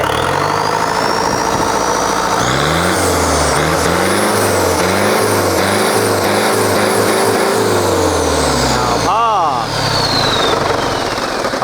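An Isuzu 4HE1 turbo diesel truck engine revs hard and repeatedly with a loud turbo whistle and spool, ending with a sharp hiss of released air.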